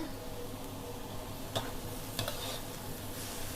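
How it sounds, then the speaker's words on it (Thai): Shrimp and bamboo shoots stir-frying in a wok, a steady close sizzle broken by a few sharp scraping clinks of the utensil against the pan. "จะเอากุ้งมาผัดกับหน่อไม้นะ"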